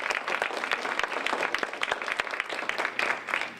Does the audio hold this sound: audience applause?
yes